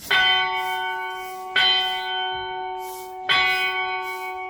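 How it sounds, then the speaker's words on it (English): A church bell in Teteman, Ghana, tolls three times at even intervals at six o'clock, each deep ringing strike sustaining and decaying before the next, clear and fairly close. "the bell just went. It's 6 o'clock officially here"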